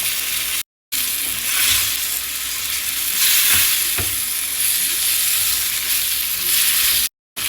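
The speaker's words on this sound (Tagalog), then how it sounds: "Ihulog na natin ang ating chorizo." Chorizo frying in a pan with carrots, fish sauce and pepper for Spanish-style callos, a steady close broadband sizzle with a few faint clinks of stirring.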